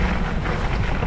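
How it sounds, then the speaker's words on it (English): Strong wind roars steadily across an outdoor spot during a snowstorm in Vancouver, buffeting the microphone with loud low rumble and no pauses. "Windy down here."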